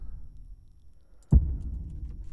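One heavy, booming low thump hits after a soft rumbling hum and leaves a dark, lingering low tail.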